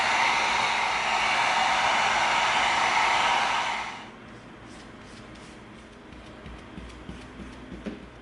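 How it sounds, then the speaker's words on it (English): Heat gun blowing hot air across EVA foam for a Valkyrie helmet, a loud steady broadband rush for about four seconds before cutting off, leaving faint room noise and a few light handling clicks. "We're going to heat seal this foam before we glue it"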